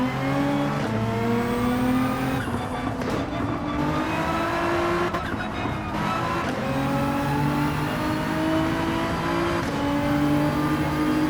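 Race car engine in the Gran Turismo 7 video game revving continuously under throttle, with rising and falling tones and shifting gears throughout, loud and steady with no talk.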